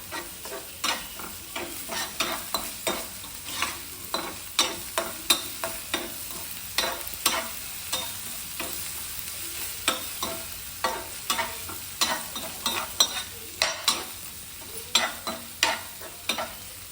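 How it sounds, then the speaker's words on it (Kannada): Chutney ingredients fry in hot oil while being stirred, giving a steady sizzle broken by a regular run of scraping stirring strokes, close and alone with no voices. "ಮನ್ಪುಗ ಆಯಿಲ್ ಸೊ ಫ್ರೈ ಆಗೋದು"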